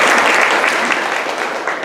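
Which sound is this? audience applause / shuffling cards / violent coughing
audience applause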